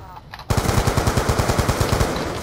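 Rapid AN-94 rifle gunfire in Black Ops 2: a loud, close burst of evenly spaced automatic shots rattling on for about two seconds after a brief quiet moment.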